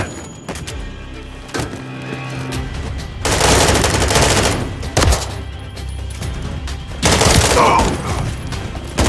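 Gunfire breaks out in the video game Call of Duty Modern Warfare 3 during a fake-paramedic terrorist attack, with loud close bursts of automatic fire in several separate volleys mixed with sharp impacts.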